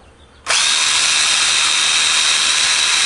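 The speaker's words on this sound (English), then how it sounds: "you're going to take your drill motor, and it's an 1/8" drill bit here, and you're going to drill out each center of these holes." A drill motor fitted with a 1/8 inch bit drilling holes for a light bar bracket starts abruptly and whines at a steady high pitch, loud and close, with no talking.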